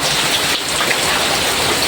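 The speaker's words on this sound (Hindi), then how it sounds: "एते जोरे वर्षा होची देखो, केते जोरे वर्षा होची।" Heavy rain pours steadily outdoors in a rural village setting, a dense continuous hiss and patter of drops on surfaces with no talk, loud and close throughout.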